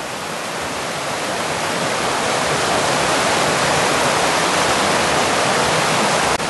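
Loud, steady rushing water fills the scene without pause, a dense broadband roar of a fast-flowing stream channel nearby, in the Peak District countryside around Ashford in the Water.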